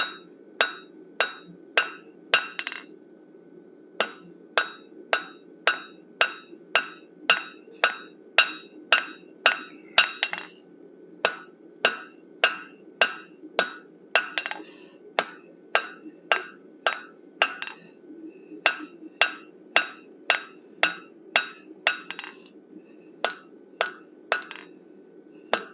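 Rhythmic hammer blows ring on hot metal being forged into a wolf head, clear sharp strikes in quick runs of steady beats separated by short pauses, close and loud with no talking.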